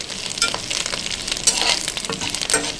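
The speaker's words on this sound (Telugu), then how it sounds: "ఈ ఆకుని నూనెలో వేపేసుకుందాం" Curry leaves fry in hot oil in a pan, giving a steady close sizzle with crackling pops and the scrape of stirring, and no voices over it.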